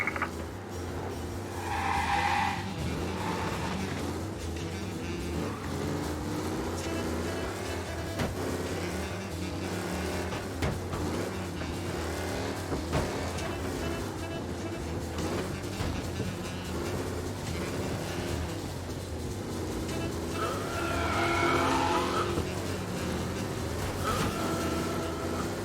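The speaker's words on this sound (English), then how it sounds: "we got a race car driving at speed" A race car drives at speed in the video game Mafia Definitive Edition, its engine roaring continuously with tire squeals and skids at intervals, game music and effects layered throughout.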